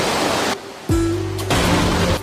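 Rushing water of an underground river flowing through a cave, a loud broadband roar that cuts out briefly and returns with a tonal hum layered on top.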